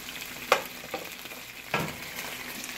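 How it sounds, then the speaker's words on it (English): Chicken pieces frying in a pan for biryani, a steady soft sizzle with a few louder crackles and stirring scrapes, fairly quiet and close, no talking. "and now we are frying the chicken."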